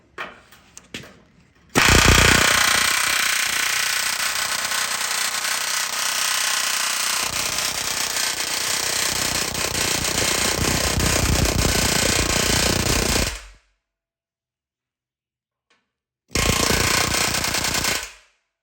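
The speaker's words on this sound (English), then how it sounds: "Once it's red hot, I'll hammer it in." A loud, continuous hammer rattles for about ten seconds driving a red-hot rivet into a truck frame, stops abruptly, then starts again for a short burst, close and harsh.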